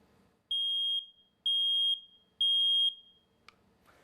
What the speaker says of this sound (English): here is my standard smoke detector